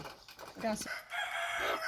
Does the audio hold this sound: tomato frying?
no